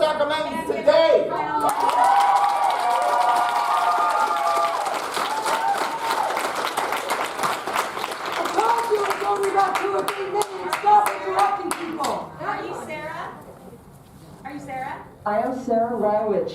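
A crowd at a Camp Resolution gathering at Sacramento City Hall bursts into sustained applause and cheering, with dense rapid clapping and whoops that build and then taper. Voices shout over the noise near the end.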